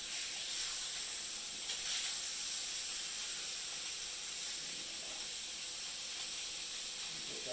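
A thick pork chop sears on an Egg grill with a steady, even hiss that holds at a constant level throughout, with no talk.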